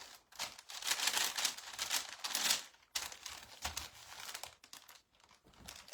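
Sheet of parchment paper laid over a flat item on a heat press, giving loud close crinkling and rustling in two long handled bursts, then softer brief crackles.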